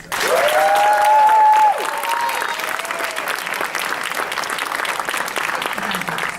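A graduation ceremony crowd breaks into sustained applause, with a loud whistle cutting through at the start before the clapping settles into an even, continuous roar.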